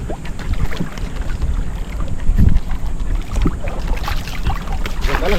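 A boat moving out on the sea, with steady engine and water rumble mixed with strong wind buffeting the microphone, loud and continuous throughout.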